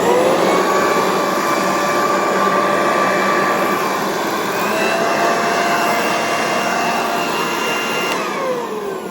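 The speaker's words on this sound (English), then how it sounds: "that is the blower configuration" A loud, steady roar of a Black + Decker electric leaf blower running continuously at close range, with a constant whooshing airflow and a faint high whine.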